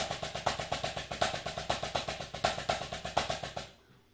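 Snare drum double paradiddle exercise played evenly near the center with no accents, a fast steady stream of crisp sticking strokes at uniform loudness, close and alone, ending in a short ring-out.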